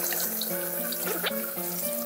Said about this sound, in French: On va rincer ça à l'eau froide.